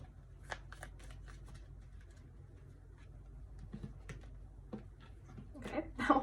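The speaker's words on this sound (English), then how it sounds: "now I'm gonna shuffle the tarot deck" A tarot deck is shuffled in soft, papery riffles and scattered card flicks, quiet and close, building to a louder flurry at the end, with a voice speaking faintly underneath.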